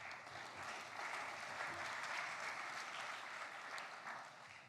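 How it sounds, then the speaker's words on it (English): Audience applause at a solar energy summit in New York, a sustained, fairly distant round of clapping from a large room that holds steady for several seconds before tapering at the end. "You should give yourselves a round of applause."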